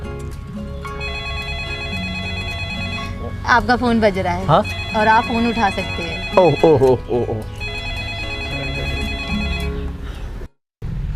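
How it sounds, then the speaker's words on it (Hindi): An electronic ringtone trills on and off in a steady repeating pattern, close and clear, while a person talks over the middle portion before the ringing stops abruptly near the end. "आपका फ़ोन बज रहा है।"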